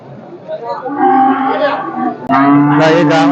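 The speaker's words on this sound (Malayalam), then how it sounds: "അത്യാവശ്യം നല്ലൊരു പശുവാണ്" A cow lowing at the Mele Palayam cattle market, two long, loud moos close by, the second deeper and stronger, with little else audible.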